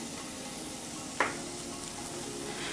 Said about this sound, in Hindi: इन सबको भी हम भून लेंगे।